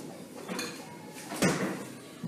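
A metal cake tin handled on a kitchen counter, with a few soft knocks and scrapes, the loudest clatter at the midpoint and a small tap at the end.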